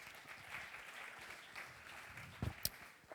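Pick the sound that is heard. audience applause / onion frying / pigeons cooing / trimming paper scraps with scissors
audience applause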